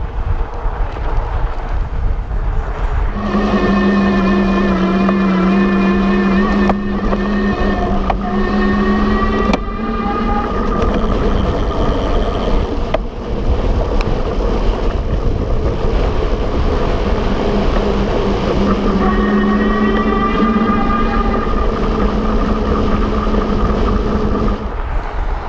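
A RadRover electric fat-tire bike ridden uphill at about 20 mph, its hub motor whine surging and dropping out repeatedly under steady loud wind rush across the microphone, no talking.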